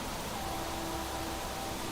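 Rain in the survival game Planet Crafter, a loud, even, unbroken hiss of falling water with a faint steady hum beneath, no talking.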